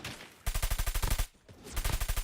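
Rapid bursts of automatic gunfire from an esports battle royale match, two loud rhythmic volleys separated by a short pause, with no voices over them.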